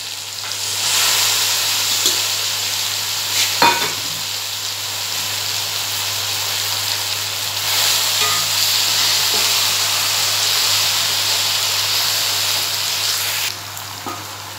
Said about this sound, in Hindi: अब हम इसमें डालेंगे टमाटर और मैक्रोनी